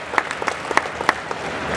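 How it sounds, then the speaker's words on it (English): A crowd applauds for Brian Ebersol during a UFC interview event, a brief, steady patter of many hands clapping at close range with no voices over it. "let's get another quick round of applause for Brian Ebersol"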